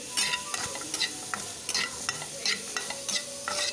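Onion pieces fry lightly in a pan for chutney, a steady sizzle broken by repeated, fairly regular scrapes and clacks of stirring throughout.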